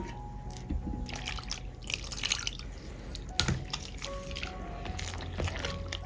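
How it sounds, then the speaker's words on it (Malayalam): Water poured into idli flour batter, heard as close wet dripping and splashing with soft squishy mixing and occasional knocks. "വീണ്ടും വെള്ളം ഒഴിച്ചു കൊടുക്കുക"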